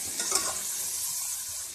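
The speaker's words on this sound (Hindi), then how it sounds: "और ये गोभी भी। पाँच से 7 मिनट फ्राई करेंगे हल्का सा," Shredded cabbage sizzles lightly in a pan for chicken vegetable pasta, a soft steady frying hiss with a brief burst of stirring near the start, moderately close and without talk.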